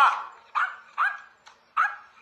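A dog barks sharply five times at a steady, roughly half-second rhythm, each bark close, loud and ringing briefly before the next.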